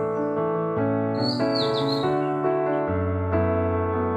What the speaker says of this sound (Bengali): পাখিদের আওয়াজ